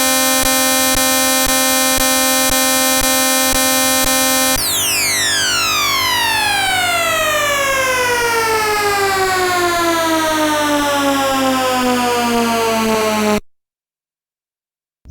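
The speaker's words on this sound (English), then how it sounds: "you get the most annoying sound effect in the history of video games" A loud, harsh electronic tone holds steady, then a cascade of descending whistling sweeps pours down for several seconds before cutting off into silence: the boss defeat sound effect in Mega Man 2.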